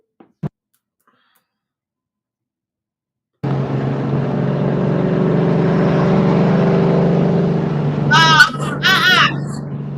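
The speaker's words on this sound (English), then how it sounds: "That damn car is loud." A loud car passes outside, heard as a sustained engine roar that swells in after a quiet stretch and holds steady for several seconds, with a brief voice breaking in near the end.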